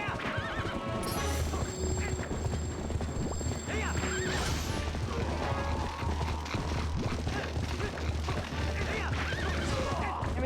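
A horse whinnies loudly amid galloping hooves and clattering action during a horseback battle in The Legend of Zelda: Twilight Princess, with the game soundtrack and effects running continuously throughout.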